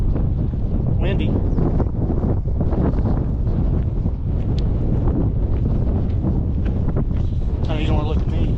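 Strong wind buffets the microphone high on the Angel's Rest mountain trail, a continuous loud roar with gusty swells and brief voices mixed in.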